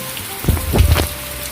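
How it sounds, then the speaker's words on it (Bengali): Heavy rain pours down outside a home, a steady wash of drumming downpour with a few duller thuds rising midway through the short stretch, and no voices present. "খেতে বসে দেখি বাইরে ঝমঝমিয়ে বৃষ্টি"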